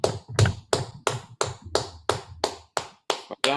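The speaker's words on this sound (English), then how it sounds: "That's the applause." Audience applause from a church congregation, a rhythmic series of about a dozen sharp, close claps at a steady pace, loud and dry, with no voices.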